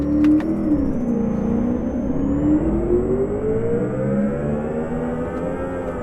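A modified Honda Civic Type-R engine in Euro Truck Simulator 2 revs loud and steady, its tone climbing and dipping as it pulls hard through the gears, with no talking.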